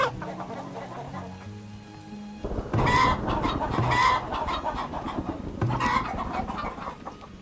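Several short bursts of clucking from hens at a coop in the frontier village-builder Farthest Frontier. The calls are fairly loud and close, set over a murmuring game soundscape.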